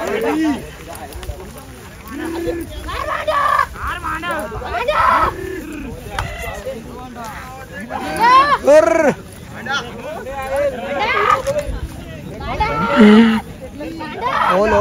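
Two bulls face off in a crowded bullfight arena, with repeated loud, drawn-out animal calls rising over a noisy crowd that shouts and chatters throughout.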